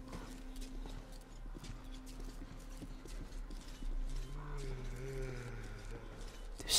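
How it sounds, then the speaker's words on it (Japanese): Footsteps in the video game Metro Exodus thud in a steady walking rhythm beneath low ambient game sound, growing a little louder toward the end. "いや、足音がすげえ。"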